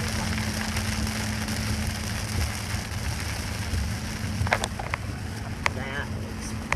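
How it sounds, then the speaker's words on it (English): Hard rain pours down during a severe thunderstorm in Ransomville, New York, a steady dense roar with wind that fills the whole clip, while people talk over it. "Yeah, it's hard rain."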